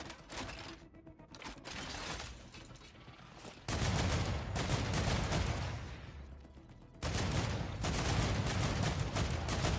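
Defensive turrets in Star Rupture open fire on a base attack, sending out loud sustained bursts of rapid shots that surge and drop in two or three heavy waves.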